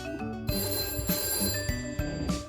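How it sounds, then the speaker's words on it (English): A landline telephone rings with a repeated electronic bell tone in a home kitchen, steady and close, pulsing in regular bursts with no voices. "the landline is ringing."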